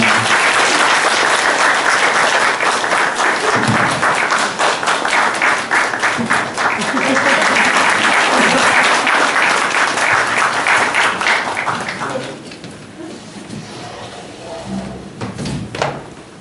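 Easter Sunday church congregation in Korea applauding: loud, dense clapping fills the room for about twelve seconds, then drops away to quieter room sound.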